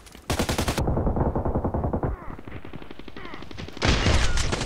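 MP133 pump shotgun blasting in the Contract Wars shooter game, loud rapid bursts of fire with a brief lull before another close, heavy volley.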